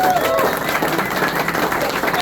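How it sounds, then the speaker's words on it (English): Audience applause at a network's tenth anniversary party, crowd clapping mixed with voices and chatter close by, steady throughout. "Let's give her a big round of applause."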